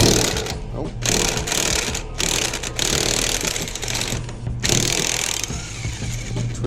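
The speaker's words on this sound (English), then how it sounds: "impact wrench on the nut" An impact wrench works a nut on a 2005 Vac-Con vacuum truck during a door safety latch replacement, loud rapid hammering bursts with short gaps between them, close up, over a steady low engine hum.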